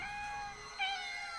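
A cat meows in a Roblox game session, a steady drawn-out harmonic wail lasting the whole moment with a brief swell near the middle, close and fairly faint.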